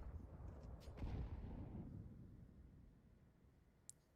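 A rifle magazine emptied in Counter-Strike on the Vertigo map, heard as a low, rumbling burst of gunfire that swells in the first two seconds and then trails off, with one short sharp crack near the end.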